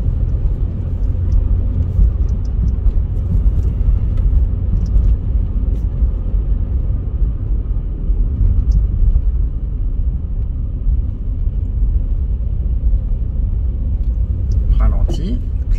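A car's engine gives a steady, loud low rumble as it pulls uphill with added throttle on a driving lesson around Liège, with a muffled in-cabin drone throughout.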